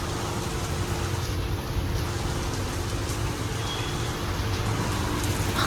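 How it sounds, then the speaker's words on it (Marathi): Heavy rain falls steadily outside, a dense, even wash of noise holding at the same loudness from start to finish, with no talk over it. "आणि पाऊस बघा बाहेर कसला पडतोय बेकारवाला"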